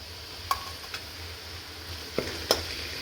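Onions sizzle softly in a pan with cumin, ginger and green chili for homemade chole, a faint steady frying hiss broken by a few light clicks of stirring.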